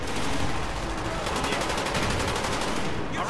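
Continuous rapid gunfire from a Call of Duty Black Ops video game fills a short burst. The shots are loud and dense, like an automatic weapon in an intense firefight.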